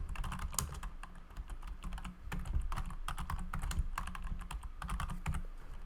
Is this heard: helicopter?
no